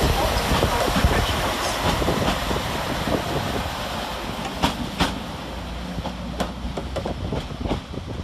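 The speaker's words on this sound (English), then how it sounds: "Next up for departure is 197047 with the 1121 Transport for Wales service to Chester." Transport for Wales class 197 diesel unit departing Crewe station for Chester, a steady rumble of train movement with a few sharp clanks and clicks of wheels over track, fairly close.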